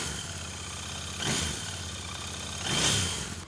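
A Royal Enfield Interceptor motorcycle engine idles with a steady, close thumping rumble, swelling twice in brief blips of throttle before settling back to idle.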